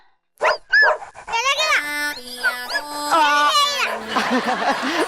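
A dog barks and whines nearby, loud and close, with high-pitched yelps. Quieter vocal sounds are mixed in.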